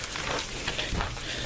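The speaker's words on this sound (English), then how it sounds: "It's hitting the camera. You can see it's just, it's ice." Ice pellets pelting a camera during a winter storm, a dense continuous patter of small hard hits that stays steady and close throughout, with no talking.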